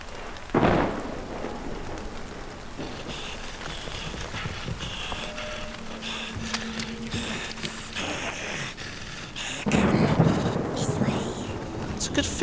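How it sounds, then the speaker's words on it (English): Steady rain patters throughout with low rumbles of thunder, swelling louder near the end, while footsteps and small movements sound beneath, in the video game Middle-earth: Shadow of Mordor. "Oh yeah, it's raining."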